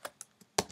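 Brief computer keyboard typing, four separate key taps at an uneven pace, faint and close with one louder final press.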